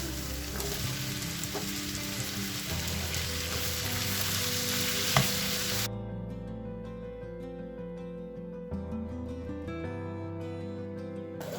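Tomatoes frying in a pan with black pepper and turmeric for lentil soup: a loud steady sizzle with stirring, which drops to a softer crackle partway through, close and without talk.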